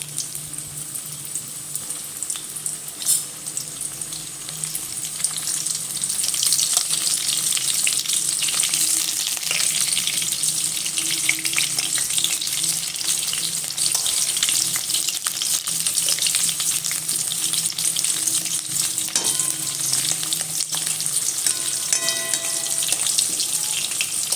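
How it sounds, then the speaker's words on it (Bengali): Potatoes fry in hot oil with a steady, loud sizzle that swells after the first few seconds and holds continuously, no voices over it. "তেলটা গরম হয়ে এসেছে আমি আলুগুলো তেলের মধ্যে দিয়ে একটু লাল করে ভেজে নেবো"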